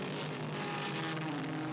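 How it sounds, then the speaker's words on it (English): A full field of IMSA sports cars streams past at the 2016 Northeast Grand Prix, a dense, steady roar of mixed engine notes that stays loud and close throughout with no voices. "Full field streams by us here in our broadcast position. It's just an absolutely lovely sound to hear"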